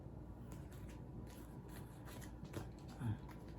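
Playing cards being dealt for the card game Spires, a series of soft papery slides and light slaps of cards onto a table, quiet and close, with faint rubbing between them.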